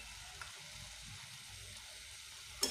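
Boiled chickpeas being stir-fried with spices in a pan, a quiet low sizzle with faint scraping as they are mixed, ending in a sharp clink.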